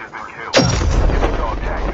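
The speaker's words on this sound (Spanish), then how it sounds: "Dos tiros me pegó y me mató" A single loud gunshot blast from the Call of Duty Mobile battle royale mode, a sharp close crack followed by a booming tail.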